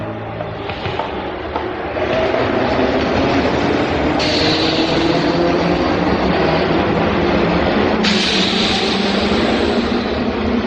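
A metro train at an underground platform, a loud dense roar of rolling carriages that builds after a couple of seconds and holds steady, with tonal shifts as cars pass.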